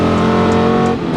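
A V8-swapped Mazda Miata drives with a loud, steady engine drone and rich low harmonics, close and continuous with a slight dip near the end.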